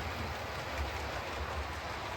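A long N-gauge model train runs along a home layout, giving a soft continuous rolling rumble with faint rhythmic clicking, steady and fairly quiet throughout.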